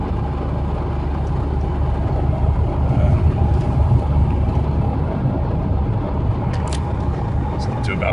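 A Ford Ranger with a 2.3 turbo diesel engine accelerates under cruise control, giving a steady low engine drone and road rumble inside the cab that builds slightly, with someone talking over it.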